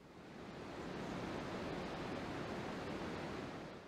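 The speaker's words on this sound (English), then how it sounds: "the spillway is doing its job although the hole beneath that flow is sending water over the edge" A steady, loud, broadband roar of water spilling over the edge of the Oroville Dam spillway fills the clip, unbroken and even throughout.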